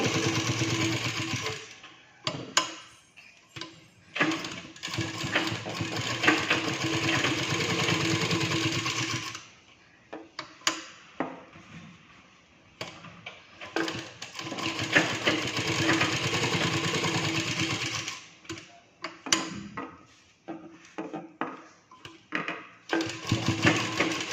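A sewing machine stitches a thread design into a blouse, running in long steady bursts with short pauses and a few brief spurts in between, with no talking.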